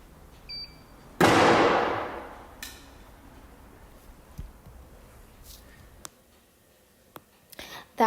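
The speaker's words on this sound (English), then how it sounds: "That boom that you heard, that kind of explosion, that's the burning of hydrogen." A single sharp boom of hydrogen gas igniting from a spark, close and loud, fading over about a second, followed by quiet with a few small clicks.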